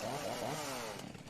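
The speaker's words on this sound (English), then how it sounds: "Chainsaw axe." A chainsaw axe revs in The Outer Worlds, a harsh buzzing motor whine that rises and falls in pitch, loud and close, then settles into a steadier drone before cutting off slightly.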